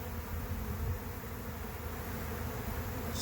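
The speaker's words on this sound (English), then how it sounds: "Still a lot of bees here though." A honey bee swarm gives off a continuous, even buzzing drone from many bees at moderate distance, steady and unbroken with no voices.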